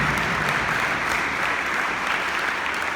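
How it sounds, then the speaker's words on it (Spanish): A church congregation applauds in a dense, continuous wash of clapping, with little else audible beneath it. "denle un aplauso al Señor"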